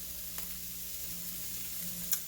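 Pickled sour bamboo shoots sauté in a pan with a steady, soft sizzle and faint background hiss, broken by a couple of brief clinks, heard alone without talking.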